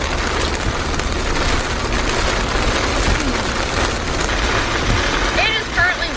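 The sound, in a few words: heavy rain downpour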